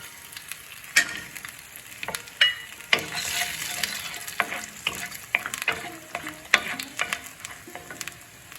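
Five-spice seeds tempering in hot oil, with scattered sharp pops and crackles over a soft sizzle, close and fairly quiet, irregular bursts throughout and no talking.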